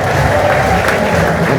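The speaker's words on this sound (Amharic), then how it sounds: "ለኢየሱስ እልልታ፣ ጭብጨባ፣ ክብር ይሁንለት።" A church congregation at an Ethiopian prophecy service claps together in praise, a dense continuous burst of applause from a crowd heard close up.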